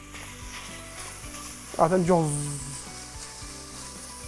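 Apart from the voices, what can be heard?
meat frying and sizzling in a hot pot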